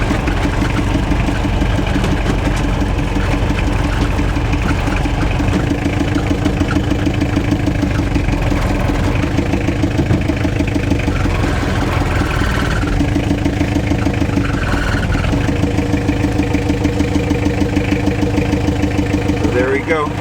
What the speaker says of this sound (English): This is just like first gear idling.